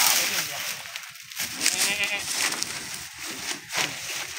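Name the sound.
goats bleating while being loaded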